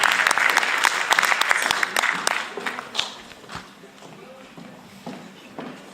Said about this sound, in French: Sous les applaudissements, s'il vous plaît.